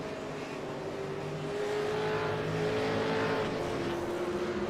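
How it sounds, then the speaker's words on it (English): Race car engine in the iRacing sim during a Bathurst 1000 V8 Supercars race, a sustained loud drone that rises and then eases slightly as the throttle lifts, heard steadily with no talking. "Did I hear a slight lift from Brady Myers on the entry to the chase"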